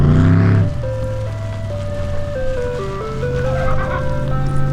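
An ice cream truck plays its tinny melody, a steady tune of sustained notes stepping up and down, following a brief louder burst at the start, fairly close and loud with no talk.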